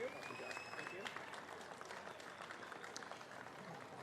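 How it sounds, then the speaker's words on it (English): A crowd applauds the pickleball gold medalists at a championship award ceremony, with steady, moderately distant clapping that runs the whole time beneath an announcer's voice. "One more round of applause for Brooks and DeWeerd"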